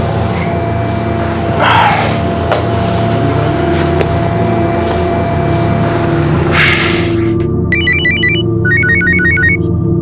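A mobile phone rings near the end with a bright, repeating electronic ringtone in two short bursts, following a stretch of steady background noise and faint breathy sounds.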